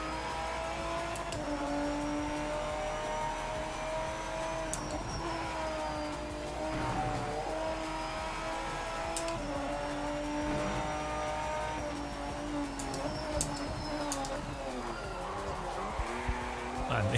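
A race car in the video game Project Motor Racing drives under steady engine whine, with quick downshift blips and tire squeal over about seventeen seconds, at a constant moderately loud level.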